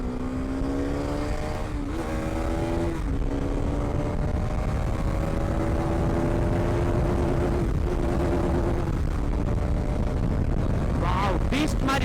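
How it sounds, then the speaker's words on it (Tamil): A motorcycle engine revs as the throttle is opened on a bypass road, its droning note climbing steadily under heavy, constant wind rush, with a short sharper burst of revs near the end. "ஓகே, ஒரே ஒரு த்ராட்டில் மட்டும் பண்ணி பார்ப்போமா?"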